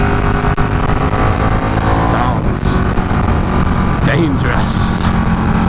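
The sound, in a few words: Ducati Panigale 899 motorcycle riding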